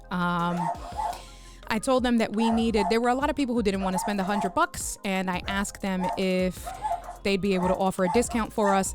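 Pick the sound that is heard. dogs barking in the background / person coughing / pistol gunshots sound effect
dogs barking in the background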